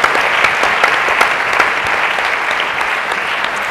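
An audience at a women's leadership summit breaks into steady, dense applause that holds evenly for a few seconds, with no voices standing out.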